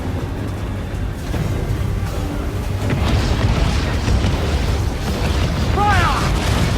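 Naval cannon fire from a pirate-era sailing ship battle in Assassin's Creed Black Flag: dense, continuous rumbling booms and crashes layered with battle noise, building louder through the second half, with a shouted voice near the end.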